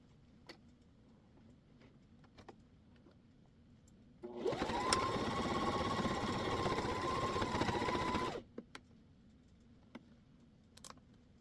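A sewing machine stitches around a Christmas oven mitt in one steady, loud, whirring run of about four seconds, with quiet room ticks before and after.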